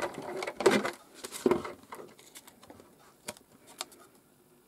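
A die-cutting machine runs card for a background-building project, giving two louder rolling clatters early on, then lighter scattered ticks and clicks that fade to quiet taps.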